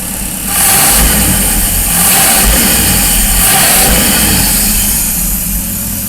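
A Cadillac engine fitted with Aces fuel injectors runs at its first start, a loud, close, steady roar that swells with revs and eases back, with no one talking over it.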